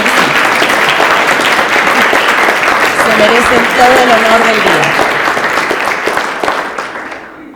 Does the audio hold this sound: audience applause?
yes